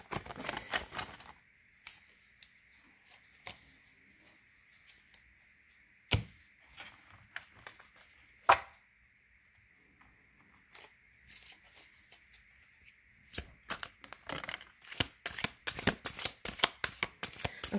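A deck of tarot cards is shuffled in sporadic bursts of quick riffling flutter and sharp card slaps, close and fairly quiet, growing busier toward the end, with no talking.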